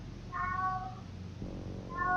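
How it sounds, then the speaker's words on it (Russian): A pet cat meows indoors, giving two clear, fairly soft meows about a second and a half apart over a low steady background hum. "Если вы слышите сейчас небольшие звуки, это мой кот"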